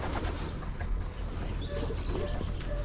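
Pigeons coo softly inside a pigeon loft, with a few low, rolling calls rising over a busy background murmur throughout.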